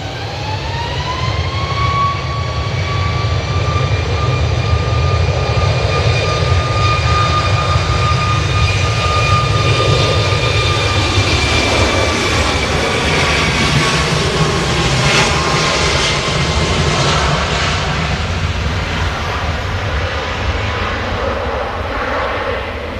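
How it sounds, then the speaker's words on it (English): A Boeing 737 Max 8 jet departs Manchester Airport with a loud, sustained engine roar and a high whine that slides in pitch as it passes, filling the whole stretch. "That was a 737 Max 8 going to Hurghada."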